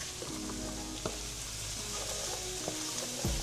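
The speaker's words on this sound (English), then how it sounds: "We're gonna allow this to cook and let the spinach wither down." Chopped baby spinach cooks in a pan with a low, continuous sizzle, broken by occasional soft clicks and taps of a utensil against the pan.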